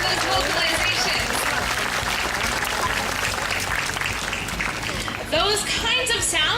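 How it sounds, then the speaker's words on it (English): An aquarium show audience at the Vancouver Aquarium applauds in a steady, dense wash of clapping for several seconds, followed by a burst of high chirping calls from the belugas near the end. "Let's give the belugas a big round of applause for those vocalizations"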